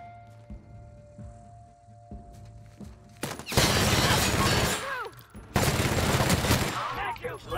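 Bursts of rapid gunfire from The Outer Worlds video game, two long loud volleys following a quieter stretch with game sounds, chaotic and dense.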